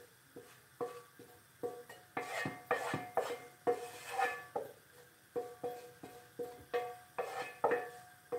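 A frying pan is rolled and scraped around on a cooker while making spaghetti bolognese, giving a steady series of metallic scrapes and clanks in an uneven rhythm, close and fairly quiet, with no talking.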